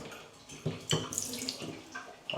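Water gushing from a bath tap switched on during a rainfall shower replacement, a splashing, sputtering flow with uneven bursts, close and moderately quiet.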